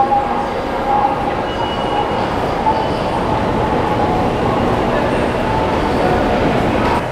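Subway train in South Korea rumbling steadily throughout at close range, with a continuous broadband roar and faint squeals above it; a voice speaks briefly over the noise.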